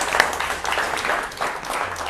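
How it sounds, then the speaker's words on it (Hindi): Studio audience in a TV studio breaks into steady applause, a dense continuous wash of clapping that holds evenly for a couple of seconds. "जोरदार तालियां।"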